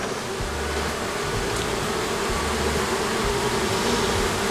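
Honeybees buzzing steadily around a hive frame while a nucleus colony is carried carefully, a continuous dense drone close by with no voices.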